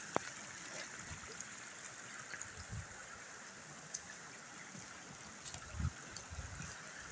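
A creek flows in a quiet outdoor woodland setting, giving a faint steady trickling wash with a few soft knocks and no talking.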